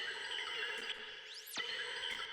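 Chimes layer of a revive and healing spell sound for the RPG game Rivalia: quiet, shimmering bell tones with glinting sweeps and rising-falling glissando sparkles over a soft wash.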